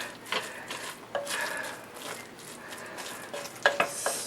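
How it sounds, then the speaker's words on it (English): A chicken and dumplings mixture is stirred in a pot, giving soft, close scraping and sloshing strokes with a few sharper clinks near the end, fairly quiet. "I want to mix it up a little without trying to"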